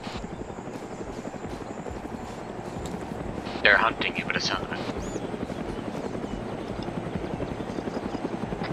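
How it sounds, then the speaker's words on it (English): Two helicopters in a video game keep up a close, steady rotor chop throughout, a rhythmic thudding beat under a whispered-sounding voice with a brief louder burst midway. "not one helicopter, two helicopters moving from southwest to northeast"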